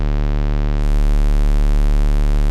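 A synth tone from the Spire software synthesizer runs through hard-clip distortion, a loud, dense, sustained buzzing drone with many stacked harmonics that holds steady throughout, with no voice over it.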